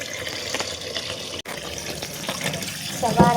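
Tap water runs steadily into a kitchen sink while raw chicken is rinsed, a close, continuous wash with brief dips and a few clatters near the end.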